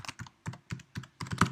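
Fingers type on a computer keyboard in quick, uneven bursts of close, crisp key clicks with short pauses between groups.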